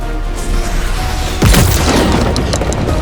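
A Nerf Nade toy grenade goes off midway through a busy outdoor Nerf war, a sudden boom-like burst rising over constant background noise.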